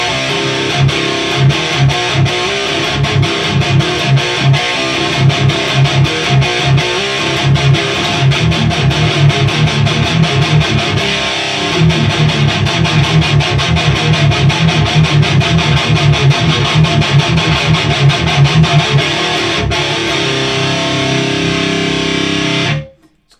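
A heavily distorted electric guitar through a Mooer 001 Gas Station preamp pedal chugs out loud, gritty metalcore riffs with rhythmic palm-muted hits, playing continuously before cutting off abruptly at the end.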